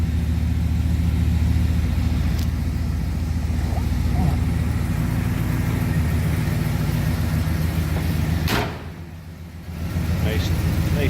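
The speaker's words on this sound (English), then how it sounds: "Hear the rumble out of that 389. Smooth running engine, nice sound." A 1966 Pontiac GTO convertible with a 389 V8 idles steadily, a deep continuous rumble close by that dips briefly near the end, while someone talks over it.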